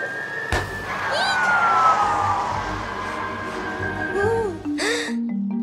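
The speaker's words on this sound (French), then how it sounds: "Fiona, le camion de pompiers, il y a un feu" Cartoon fire truck siren from a children's animated garage show, a loud wailing tone sweeping downward over several seconds amid other animated sound effects and short bursts of noise.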